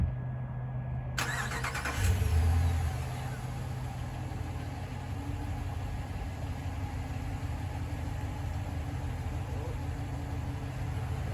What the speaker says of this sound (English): With almost no effort whatsoever, my Ram 1500 completely dominated the little bumpy things.